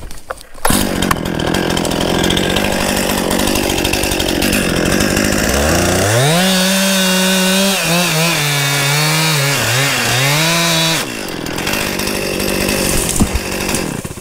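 Chainsaw cutting down a tree, a loud, close, continuous engine roar that rises and bogs as the bar works through the trunk, then revs again near the end.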